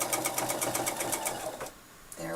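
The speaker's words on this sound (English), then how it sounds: "now lock those stitches and go for my straight stitch" A sewing machine runs a straight stitch in a fast, even rapid rhythm of needle strokes, close and steady, then briefly pauses before a voice speaks over it.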